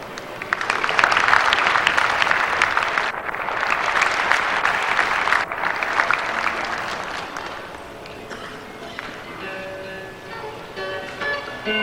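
Sustained applause from a large audience at a 1997 Iowa FFA state leadership conference, a dense, steady clapping that swells loud for several seconds before thinning and fading toward the end.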